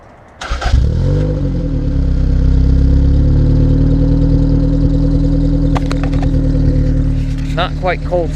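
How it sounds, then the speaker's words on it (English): A 1986 Toyota MR2 engine catches after a short cranking burst and settles into a steady, fairly loud idle, already warm from running a minute; a few faint clicks and squeaks come near the end. "Not quite cold startup because it's been running for a minute."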